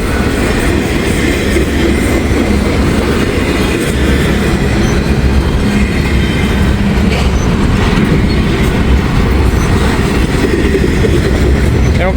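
An intermodal freight train passes close by in a loud, continuous rumble of rolling cars, with rhythmic clickety-clack and occasional wheel squeal.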